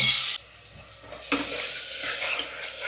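Chickpeas tipped into a pan of sizzling cumin bring a sharp burst of frying hiss, followed by spoon-against-pan stirring scrapes over continued sizzle, close and fairly clear.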